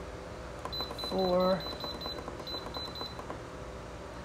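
An electric pressure cooker set to manual gives a short chirp of beeps, and a quieter run of soft beeps follows under a person talking.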